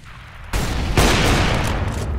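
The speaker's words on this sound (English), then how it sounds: "Throwing a grenade. Incendiary out." An incendiary grenade goes off in a first-person shooter game, a sudden loud burst followed by a second heavier blast and a sustained roar of fire and crackle, close and dense throughout.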